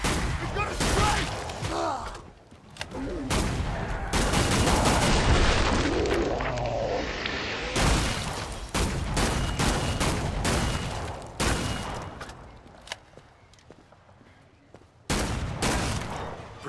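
Heavy gunfire from a sharpshooter in Killing Floor 2 on the Burning Paris map, loud repeated shots and booming blasts packed into a chaotic battle, with brief pauses between volleys and voices now and then.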